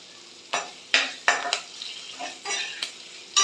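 Green chilli, ginger and dried chilli pieces sizzle in a hot oil tempering as a spoon stirs them. Several close scrapes against the pan ring out irregularly over a light, steady frying hiss.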